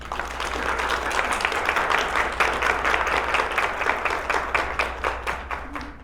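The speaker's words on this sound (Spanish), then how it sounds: "les pido un fuerte aplauso para el ponente" An audience at a youth workshop gives the speaker a steady round of applause, many hands clapping with a clear rhythmic pulse, close and continuous for several seconds.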